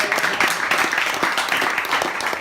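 Dense applause from a dinner crowd honouring a fantastic catch at a cricket club awards night, steady and broadband throughout with a few sharper claps rising out of the wash.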